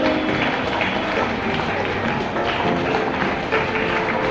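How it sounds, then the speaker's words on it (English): Students applauding at a school Independence Day celebration, a dense, steady crowd clapping sustained at loud volume throughout, with voices mixed faintly underneath. "Keep on clapping, students."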